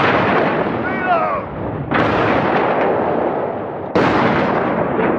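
World War I artillery fire from the Battle of the Somme, made of heavy booming blasts that roll into a continuous loud rumble, with two sharp new detonations spaced a couple of seconds apart and a faint whistle over the din.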